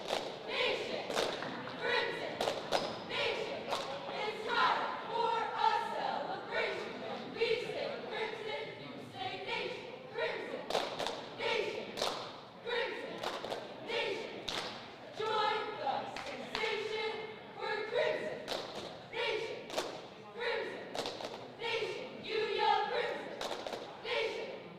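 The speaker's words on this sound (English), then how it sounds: "You hear the cheerleaders cheering for Crimson Nation." Bucks cheerleaders cheer at a Dunmore versus Old Forge high school boys basketball game, with rhythmic claps, stomps and thuds under chanted voices, loud and steady throughout a busy gym.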